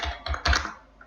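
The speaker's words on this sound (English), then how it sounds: "Suppose I am typing here mobile number" Rapid typing on a computer keyboard during data entry in Excel, a quick burst of close, crisp key clacks with a brief pause toward the end, no talk.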